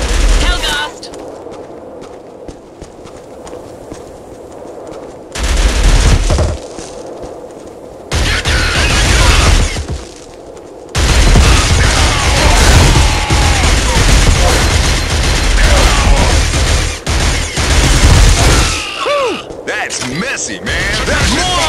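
Heavy bursts of gunfire in the PS2 shooter Killzone, with loud sustained volleys broken by short quiet gaps during a firefight, while shouted voices come through at points.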